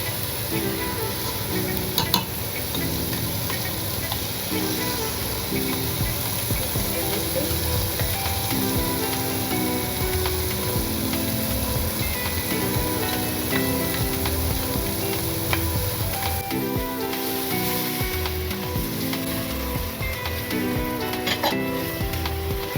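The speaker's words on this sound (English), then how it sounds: "I'll then go in with our blended tomato." Blended tomato sizzling in a frying pan with lentils, a continuous crackling sizzle with occasional stirring scrapes, steady and close.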